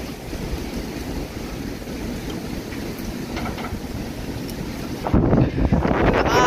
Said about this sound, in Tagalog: Lakas ng alon, lakas ng alon, malakas ang hangin.